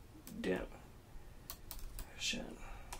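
Quiet, scattered clicks of typing on a computer keyboard come in a few short bursts, with brief murmured voice sounds in between.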